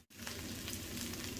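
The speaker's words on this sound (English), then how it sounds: "Okay, the pan feels nice and hot. Place your mushrooms in the pan." Mushrooms hitting a hot pan with olive oil, bursting into a loud, dense sizzle right after a brief silent gap and holding steady to the end.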